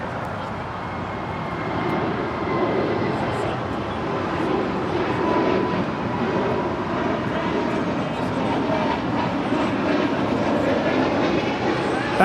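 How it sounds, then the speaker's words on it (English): A Spirit Airlines Airbus A320neo departs LAX, its jet engines producing a loud, steady broadband roar that holds evenly throughout without a break. "That was Spirit Airlines Flight 2330 departing to Baltimore on an A320 Neo."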